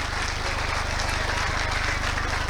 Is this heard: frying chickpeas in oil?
no